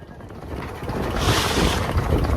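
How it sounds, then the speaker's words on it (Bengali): Gusty stormy wind buffets the microphone while big waves wash and slap around a fishing boat in the Sundarbans, a dense roaring rush that builds louder over a couple of seconds, no talk. "ঝোড়ো হাওয়া, সাথে প্রচণ্ড ঢেউ, তার মধ্যেই চলছে আমাদের বড়শি ফেলার কাজ"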